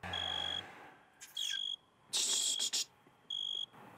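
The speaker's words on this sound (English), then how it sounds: "Do you guys hear crickets chirping?" Crickets chirp in short, bright, pulsing bursts separated by brief gaps, fairly close and clear against a quiet night background with no voices.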